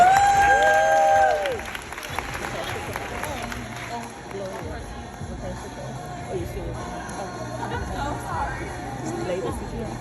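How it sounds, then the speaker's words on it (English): Audience at a panel event claps and cheers amid crowd chatter, after a brief burst of music at the start; the noise stays moderate and mixed with talk. "Now give it a round of applause for our panels."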